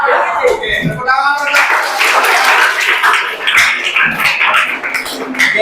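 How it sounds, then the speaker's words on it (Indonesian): A seated group breaks into applause indoors, loud scattered hand claps running for several seconds, with a voice speaking at the start and some chuckling under the clapping. "Oke, tepuk tangan."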